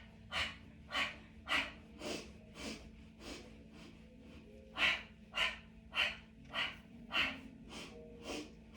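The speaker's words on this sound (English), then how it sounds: "Exhale 5 times." Rhythmic breathing during a Pilates mat exercise, about fifteen short, forceful exhales spaced roughly half a second apart, close and clear, with a brief pause midway and no talking.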